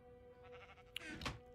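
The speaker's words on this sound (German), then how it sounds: "Schafe, genau." Minecraft sheep give a single short bleat near the end, loud and close over faint game music, with no talk.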